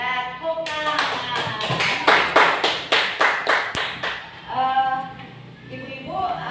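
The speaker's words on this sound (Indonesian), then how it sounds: "Ya, tepuk tangan." Audience of women clapping hands together in a meeting room, a burst of fairly loud rhythmic applause lasting several seconds, with faint voices before and after.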